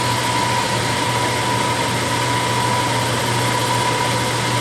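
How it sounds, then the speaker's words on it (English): A milling machine climb milling during a round-insert lathe tool holder build, giving a steady, loud mechanical drone with a constant motor hum throughout, no talk. "Gotta be careful going this direction because I'm climb milling, and this mill does not like climb milling."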